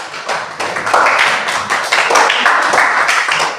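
Students clapping in a classroom lesson at a teacher's prompt: a short, close burst of uneven hand claps from a small group, loud and choppy for a few seconds.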